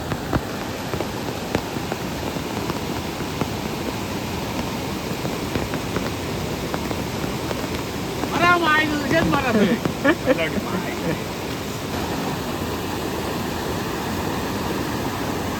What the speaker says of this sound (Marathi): हा बघा देवडच्या पुलावर पाणी बघा किती येतात